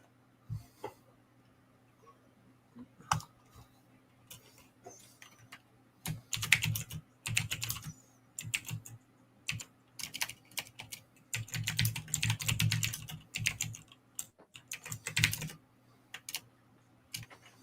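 A computer keyboard being typed on during a relaxed live stream, with sparse clicks early that build into fast, bursty clatter, close and quiet over a faint steady hum.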